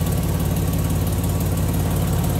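Inline-six engine of a 1954 Chevrolet Bel Air idling close up, a smooth, even low rumble with steady firing pulses and no talk over it.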